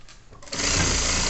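A sewing machine runs a short, quick burst of stitching along the edge of a shoulder bag lining, starting softly and then going steady and close with no voices.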